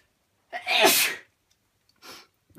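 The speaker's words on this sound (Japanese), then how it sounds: "俺多分もう開始早々もう10回はくしゃみしてると思う" A single loud, close sneeze bursts out, then a shorter, softer second sneeze or exhale follows after a brief pause, with no talking.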